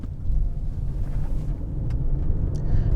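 Lexus NX 300h 2020 hybrid with a whiny 4-cylinder engine, heard from inside as a steady low drone with road and wind rumble, moderately loud and continuous.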